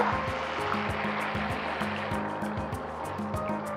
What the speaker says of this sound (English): To this, I'm going to add in a little bit of water.